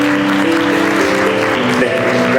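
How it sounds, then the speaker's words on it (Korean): Wedding guests clap at a ceremony in a wedding convention hall in Incheon, a loud, continuous wash of applause over a sustained musical tone. "다시 한번 큰 박수 부탁드립니다"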